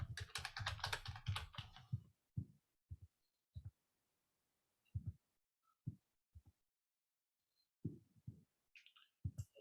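Typing on a computer keyboard to search, heard as scattered soft clicks and short bursts of keystrokes in a quiet room, after a brief dense patch of rapid clatter at the start.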